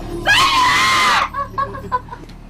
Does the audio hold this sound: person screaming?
yes